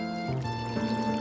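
Broth pours into a pot full of fresh clams, octopus and sea squirts for a Korean seafood doenjang stew, a steady close liquid stream with a rising pitch as the pot fills.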